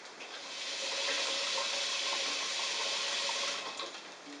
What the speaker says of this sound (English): we've got the pot filled halfway with water